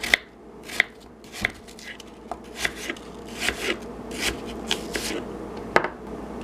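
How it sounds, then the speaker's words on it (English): A knife chops apples on a board for apple pie filling, with steady, evenly spaced cuts close up and moderately loud. "Or you can cut them into smaller pieces"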